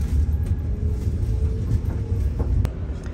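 Lastochka electric train pulling away on the run from St Petersburg toward Pskov, heard from inside the carriage as a steady low rumble with faint rail clicks, loud and continuous throughout.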